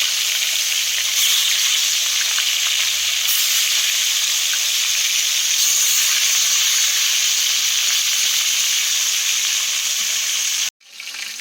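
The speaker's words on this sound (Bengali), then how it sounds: "মাছগুলো খুব ভালো করে লাল লাল করে ভেজে নেব।" Fish fry in oil in a pan, a loud, continuous close-up sizzle with faint crackles that runs steadily and then cuts off abruptly near the end, with no voices.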